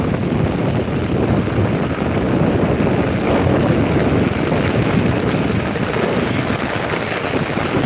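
A river in flood after heavy rain surges past in a constant thick roar, loud and close, with wind rumbling against the microphone and no other sounds breaking through.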